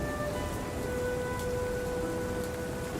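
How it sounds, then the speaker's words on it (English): Steady rain falls in the video game Pax Augusta, with a constant soft patter under faint tonal background sounds. "So it's still raining."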